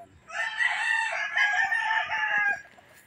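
A shamo gamefowl rooster crows once, close and loud, in a single drawn-out call lasting over two seconds before falling silent.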